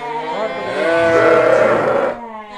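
Hissar sheep brought from Tajikistan bleat at a livestock market, one long, loud, wavering bleat close by, lasting about two seconds before fading into low background noise.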